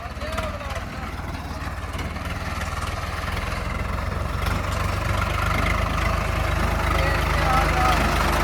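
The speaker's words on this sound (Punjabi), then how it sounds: "ਟਰੈਕਟਰ ਆਪਣਾ ਨਿਕਲ ਆਇਆ" A Swaraj 855 tractor engine idles nearby with a low, steady chugging throb that grows slightly louder, while faint voices and other noises come and go.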